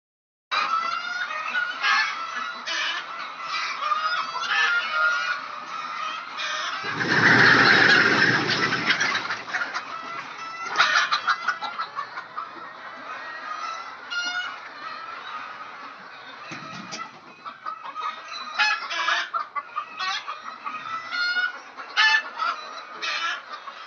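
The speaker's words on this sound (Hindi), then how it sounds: "पहले आपको दिखाते हैं मुर्गियाँ।" Flock of Golden Misri hens clucking continuously at close range, with overlapping calls and occasional louder squawks from a busy poultry farm.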